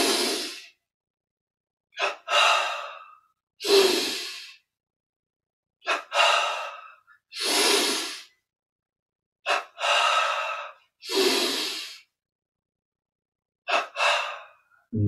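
Deep breaths in and out during a yoga-style exercise session, about a dozen loud, close breath sounds in a slow, regular rhythm with silent pauses between them, no talking.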